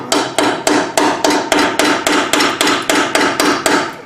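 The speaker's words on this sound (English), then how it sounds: "You get a hammer." Steady hammer blows driving a sharpened plug into a hole in the exhaust pipe of a Dodge Ram 5.9 gas truck, about a dozen loud, evenly spaced metallic strikes in quick rhythm, close and alone.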